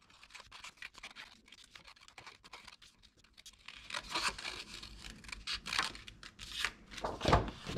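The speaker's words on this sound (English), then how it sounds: "Then you can cut all the hills out neatly." Card being cut with scissors into hill shapes for a gel-plate monoprint, quiet snipping and paper scraping that grows louder and more frequent in the second half, close up with no talk.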